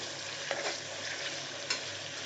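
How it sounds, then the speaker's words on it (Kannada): Tomatoes fry in a pan for chicken fry with a dense, even sizzling hiss and a couple of brief stirring scrapes, close and steady, with no voices. "ಚೆನ್ನಾಗಿ ಫ್ರೈ ಆಗಲಿ ಸ್ವಲ್ಪ."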